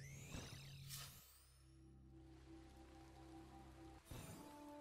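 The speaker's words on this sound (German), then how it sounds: "Hier regnet es wenigstens." Steady rain in the video game Starbound (Frackin Universe mod) patters and hisses continuously, with a low hum and a couple of bright swooshing tones layered over the downpour.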